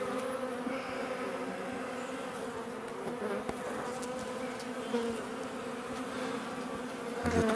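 Honeybees buzz steadily around an open hive during a queen search, with a dense, continuous hum of many insects close by and no talk.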